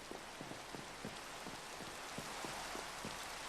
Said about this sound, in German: Teilweise regnet es, teilweise schneit es.